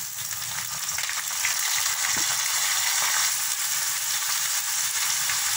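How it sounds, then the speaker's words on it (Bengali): Dried fish with chopped onion fries in a pan, a steady broadband sizzle with faint scraping stirs, close and continuous with no talk. "এখন আমি এর মধ্যে শুটকি দিয়ে দেব।"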